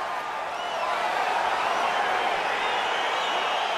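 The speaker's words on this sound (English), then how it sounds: "crowd getting excited as this fight gets underway" Video game crowd in the octagon at an EA Sports UFC 4 fight, a steady, dense roar of cheering that stays loud and even throughout, with no talk over it.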